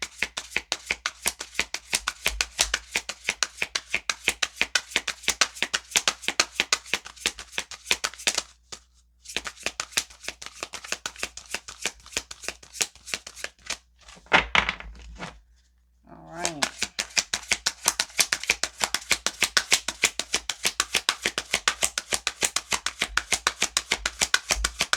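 A deck of cards is shuffled over and over in a fast, dense riffling patter close to the listener, with short pauses and brief bits of talk in between.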